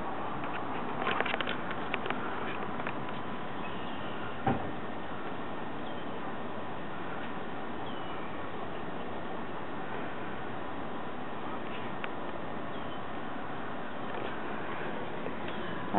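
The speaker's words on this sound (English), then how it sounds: "just heavy rain and a little wind" Steady rain patters continuously with a soft breathy wind underneath, a few brief louder taps near the start, and no voices.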